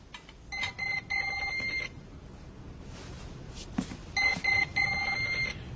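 An electronic telephone ring sounds in two bursts of rapid warbling tones, separated by a quiet gap with a faint thump.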